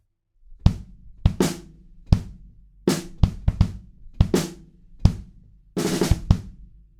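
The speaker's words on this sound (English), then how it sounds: "we've got this kind of really broken down beat, and then a little fill at the end" Sparse, broken-down drum kit groove, separated kick and snare hits with gaps between, ending in a short fill and crash, played close and alone.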